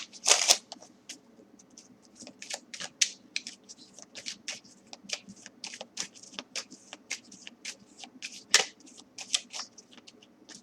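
Playing cards shuffled for a tarot reading, heard as a series of quick papery riffles and soft flicks in irregular bursts, close and fairly quiet, with no talking.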